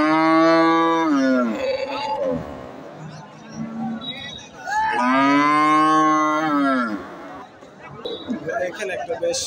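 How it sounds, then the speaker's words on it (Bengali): Cows at a busy cattle market give two long, loud, close moos a few seconds apart, with crowd chatter and voices murmuring underneath and between the calls. "এখানে একটা বেশ বড় মাপের গাভী দেখছি"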